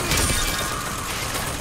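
A machine in the game BioShock fires at enemies in a dense, loud, rattling burst of mechanical clatter lasting just over a second.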